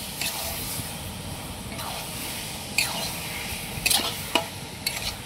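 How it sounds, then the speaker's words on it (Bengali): Marinated desi red rooster chicken is stir-fried in spice masala that has released its oil. A continuous sizzle runs under several sharp stirring scrapes and clatters close by. "এবার ম্যারিনেট করা চিকেনটা আমরা এর মধ্যে দিয়ে দিচ্ছি। এবার ভালো করে কষে নেবো এটাকে।"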